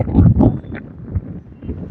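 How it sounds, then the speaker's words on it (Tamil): Strong wind gusts batter the microphone on an open rooftop terrace, making a loud, rumbling buffeting that swells and fades across the moment. "காற்று பயங்கரமா அடிக்குது"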